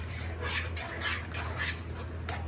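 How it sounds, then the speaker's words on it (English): A spoon scrapes and rubs in a pot while chicken pot pie ingredients are stirred with salt on a stovetop, a series of short rasping strokes over a low steady hum, with no voices. "Mix it and mix it."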